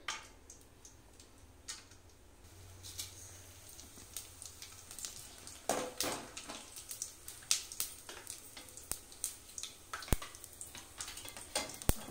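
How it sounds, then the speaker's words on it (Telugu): Whole garam masala spices drop one by one into hot ghee and oil, giving a faint, steady sizzle broken by scattered small ticks and crackles, with no one talking. "నెయ్యి నూనె వేడెక్కిన తర్వాత ఒకటొకటిగా గరం మసాలా యాడ్ చేసుకోవాలి"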